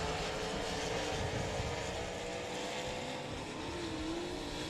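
Sprint cars racing side by side on the dirt oval at 67 Speedway in Texarkana during a Bandit Outlaw Sprint Series event, a faint, continuous engine roar with a rising and falling drone heard from a distance.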